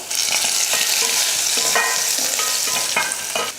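Mustard seeds, crushed garlic and curry leaves hit hot oil in a loud, close, continuous sizzle, dotted with sharp pops and crackles and no voices.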